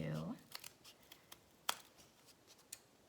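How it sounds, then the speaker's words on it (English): Short crisp snips and paper rustles, a few scattered cuts close by, with a brief voice at the very start. "I'm going to use my scissors. I'm going to cut on the line that I just made"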